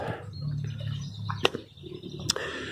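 Birds chirping around a large fruit cage on a small farm, a few faint scattered tweets and two sharp bright chirps heard alone over quiet outdoor background.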